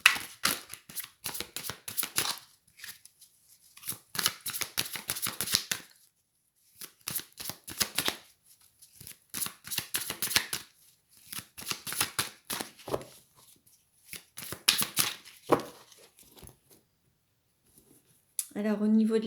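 Sacré-Cœur oracle cards being shuffled by hand in repeated bursts of quick riffling flutters separated by short pauses, close and crisp, with someone speaking between some of the bursts.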